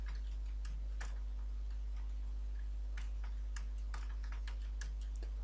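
Someone types on a computer keyboard in short irregular bursts of crisp keystrokes that are close and moderately loud, over a steady low hum, with no one talking.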